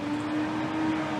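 A loud truck rolling past produces a steady engine drone with a sustained tonal hum for just over a second, no speech heard.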